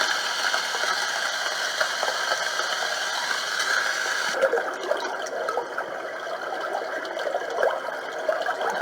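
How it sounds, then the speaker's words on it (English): Rain setting on a portable nursery white noise machine: a continuous, even hiss of falling water with scattered light patter, slightly brighter in the first half, steady throughout. "More rain."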